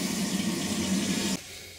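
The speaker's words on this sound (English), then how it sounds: "So I got the water back on, no leaks, and water tank's full." A Glacier Bay low-flow dual-flush toilet tank refills with a steady rushing hiss of water after the supply is turned back on, then cuts off abruptly near the end, leaving a quiet room tone.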